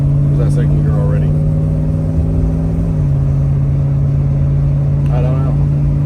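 A hot rod's engine drones steadily in first gear on a test drive, a loud low hum that drops slightly in pitch partway through, with people talking over it.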